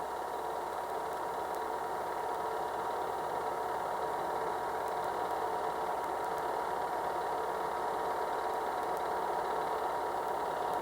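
A vehicle engine running at a steady mid-pitched drone while driving along rows of grape farms, with constant rumble and vibration, close and unbroken throughout, with no talking.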